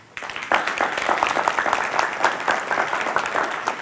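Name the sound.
church audience applause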